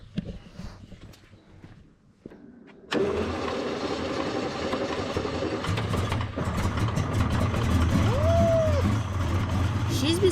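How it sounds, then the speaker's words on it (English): A car engine left two days in the heat with its fuel evaporated cranks and catches roughly, a sputtering mid-range running noise that rises and wavers after a quiet start with footsteps and faint handling sounds. "The fuel evaporated and now the engine wants petrol that simply isn't there"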